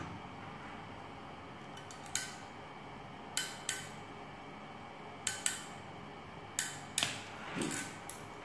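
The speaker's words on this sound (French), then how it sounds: "je prends ma pince et je coupe" Pliers cut through a UTP network cable in a quiet room, producing several sharp, brief snips and clicks spaced irregularly over a low background hum.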